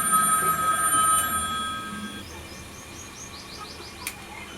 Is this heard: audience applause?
no